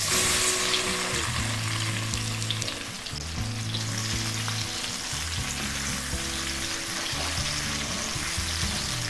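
Four cut plantains sizzle in melted ghee in a pan, a dense, steady hiss with light stirring, while melodic music plays over it from start to end.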